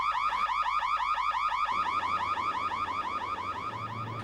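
A workplace alarm sounds continuously, a loud rising-and-falling electronic whoop repeating about every quarter second, steady and alone with no voices.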